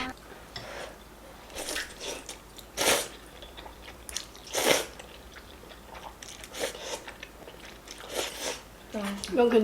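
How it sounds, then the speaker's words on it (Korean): Close-up eating of jjamppong spicy seafood noodle soup and potatoes, with crisp bites, crunches and chewing in irregular bursts, and people talking quietly at intervals. "오늘 메뉴는 초마 짬뽕이랑 외지 감자랑 이렇게 먹을게요."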